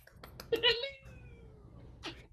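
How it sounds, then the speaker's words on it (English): A cat gives a single drawn-out meow that rises and then slowly fades, heard close but fairly quiet over faint background noise, followed by a brief second cry. "And a kitty cat."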